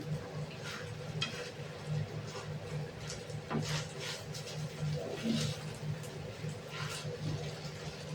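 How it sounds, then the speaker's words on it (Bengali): A spoon scrapes and stirs through kanika, a sweet rice, in a pot after nutmeg and mace go in. The scraping is faint, soft and continuous over a low background rumble. "আর এবার একটু মিশিয়ে দিচ্ছি।"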